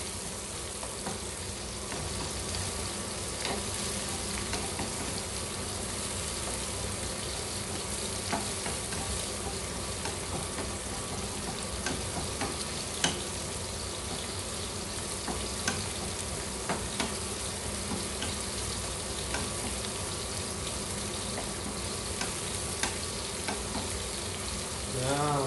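Sliced onions caramelizing in a pan after garlic, a steady dense sizzle and crackle of frying oil that runs continuously and evenly at close range, with occasional light stirring clicks.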